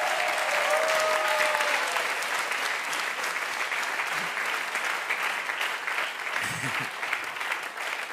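An audience at a Schlager music TV show breaks into loud, sustained applause, a dense wash of clapping that carries on evenly for the whole stretch and tapers slightly toward the end.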